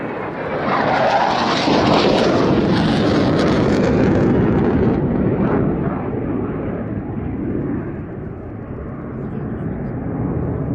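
A Saab Draken fighter jet roars loudly past with afterburner lit, its broadband rumble peaking early and then slowly fading into a distant, lingering drone.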